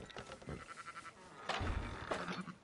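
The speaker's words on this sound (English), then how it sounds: "Fine sheep." Sheep bleating nearby in short wavering calls, several overlapping, with a louder bleat around the middle and a few thumps in the background.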